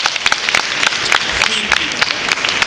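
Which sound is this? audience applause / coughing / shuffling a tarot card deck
audience applause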